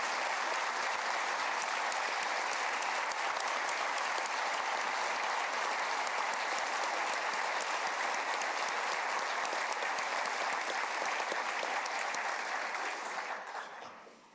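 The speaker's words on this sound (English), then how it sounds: "Will you all join me in giving Leda Wise Spirit a round of applause today?" Sustained, dense applause from a large audience in a state capitol chamber during a South Dakota State of the State Address, steady for over ten seconds before tapering off at the end.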